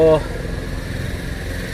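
A tractor engine idles with a steady low rumble, after a brief burst of voice at the start.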